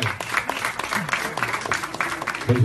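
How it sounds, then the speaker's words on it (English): A crowd applauds with scattered clapping at a Miss Universe press conference in Vigan, and voices can be heard in the background through the brief burst. "Please give a round of applause"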